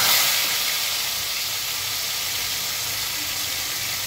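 Chicken pieces sizzle in hot oil, a loud, dense, continuous hiss that surges at the start and then holds steady, close up with no talking.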